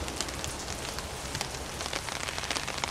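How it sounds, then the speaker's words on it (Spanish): Rain falls steadily on a garden in a forest, a dense, even patter of drops on leaves and surfaces, soft and continuous with no voices. "miren cómo es un jardín acá en el bosque lloviendo, pero yo estoy bajo un paraguas"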